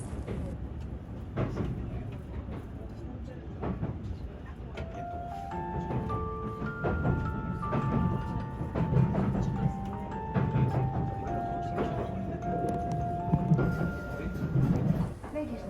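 The JR Resort Shirakami train departs Akita station with a low, rumbling engine roar. A sequence of stepped rising and falling tones plays over it, and the rumble stays continuous and moderately loud throughout.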